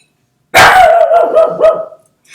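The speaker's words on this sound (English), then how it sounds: "Dog's excited about something." A dog in the Chip's Challenge 2 puzzle game barks excitedly, one loud close bark followed by a quick string of yippy barks and a short growly tail, then silence.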